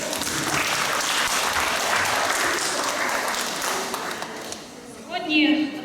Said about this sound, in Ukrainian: аплодисментами привітаємо один одного